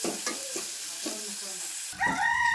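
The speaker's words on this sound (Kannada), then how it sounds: "ಉಳ್ಳಾಗಡ್ಡಿ ಸ್ವಲ್ಪ ಫ್ರೈ ಮಾಡ್ಕೊಳ್ಳೋಣ" Onions fry in a pan, a soft sizzle under repeated scraping stirs in an uneven rhythm, close by, with a rooster crowing faintly in the background near the end.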